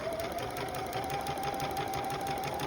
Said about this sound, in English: this is just a demo of sewing the dart